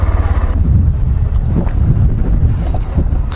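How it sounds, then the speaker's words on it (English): Steady wind buffeting the microphone on a coastal trail with an ocean view, during a stop on a Honda Grom motorcycle ride; a low, constant roaring rumble that fills the clip, with no talking. "A bit windy today."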